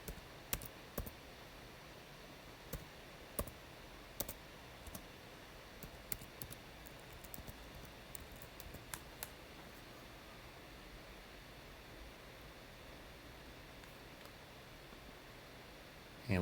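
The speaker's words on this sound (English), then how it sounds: "Double click on it." Faint, sharp computer mouse clicks come singly and in quick pairs over steady low hiss while text styles are set up in layout software, clustered early and then thinning out.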